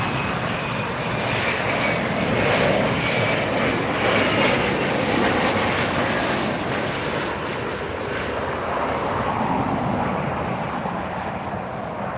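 A fixed-wing airliner arriving at LAX airport on a Sunday roars continuously and loudly at close range, a broad steady engine rush with no talk over it.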